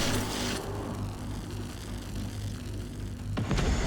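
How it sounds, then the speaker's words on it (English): Enemy robot shields powering up in the Generation Zero video game, a sustained whooshing, humming swell with low rumbling texture, followed by a sharper burst near the end; moderately loud, no speech. "I think that's the sound of his shields coming up."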